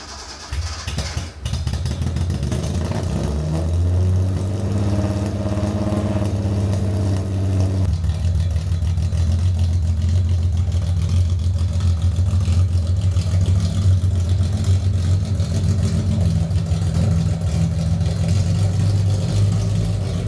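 A Datsun 240Z's engine runs loud and close on a first drive, a steady, even drone with a rough burst at the start, with no voices over it.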